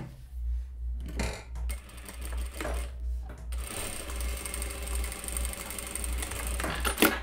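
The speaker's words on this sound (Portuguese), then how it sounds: "eu faço um pesponto aqui bem rente à minha borda de montagem" A sewing machine topstitches close to the seam edge of a child's festa junina party dress, its fast mechanical whirring and needle clatter running loud and near, with a few pauses early on before a long continuous run.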